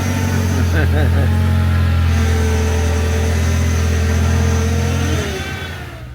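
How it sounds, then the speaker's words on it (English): An off-road vehicle's engine hums loud and steady with a thin whine from the power steering pump rising and falling as the wheel turns, and people talk over the sound. "Hear my power steering pump?"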